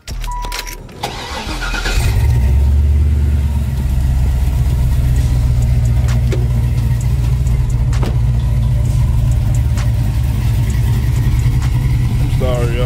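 A Chevrolet Impala's engine starts up and then idles with a steady, loud, close rumble; a brief voice is heard at the start.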